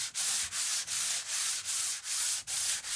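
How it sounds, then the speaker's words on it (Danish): Terrace wood being hand-sanded with coarse 80-grit sandpaper: close, steady back-and-forth scraping strokes in a quick even rhythm, about eight strokes in three seconds, with no voices. "Du får det bedste resultat, hvis du sliber træet nyt som gammelt med sandpapir Korn 80."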